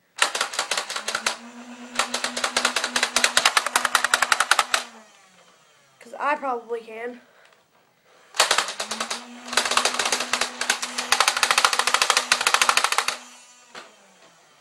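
A Nerf Elite Hail-Fire blaster fires bursts of foam darts, loud rapid mechanical clatter in two long volleys with a steady motor whine beneath, separated by a short spoken phrase.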